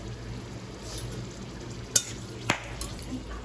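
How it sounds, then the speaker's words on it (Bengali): Bay leaves and chilies hit hot oil in a pan for fish curry, giving a steady low sizzle with a few sharp pops and crackles spaced across the moment, close and moderately quiet with no voices. "এদিকে তেল গরম ছিল, দুটো তেজপাতা, দুটো ঝাল"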